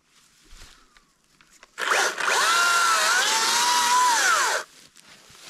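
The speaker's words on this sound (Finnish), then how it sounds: "Sisähommissahan tuo on ja raksahommissa niin hyvä tuo akkusaha." A cordless saw whines into a cut for about three seconds, loud and close, its pitch bending as the blade bites through windfallen wood cut for firewood, then stops.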